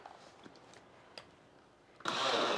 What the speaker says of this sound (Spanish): Y voy a poner a moler.